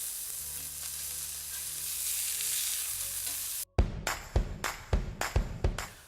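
Meat sizzles loudly and steadily in a cast iron skillet for several seconds, then after a brief cut comes a run of sharp, close clanks and scrapes of utensils against the pan, with no talking.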